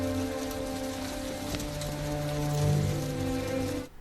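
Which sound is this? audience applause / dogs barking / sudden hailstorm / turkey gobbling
sudden hailstorm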